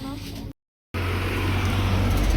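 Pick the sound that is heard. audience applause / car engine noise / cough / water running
car engine noise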